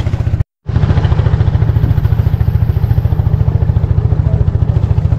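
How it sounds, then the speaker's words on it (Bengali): An engine-powered riverboat passes close by with a loud, steady low chugging engine throb and a clattering rhythm, broken by a short dropout near the start. "নৌকা ইঞ্জিন চালিত, দ্রুত গতিতে যাচ্ছে"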